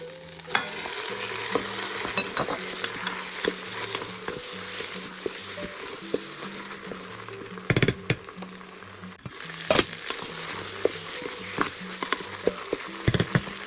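Lamb fries in sauce for an Albanian stew with a close, steady sizzle and crackle, broken by occasional sharp clinks and scrapes of stirring.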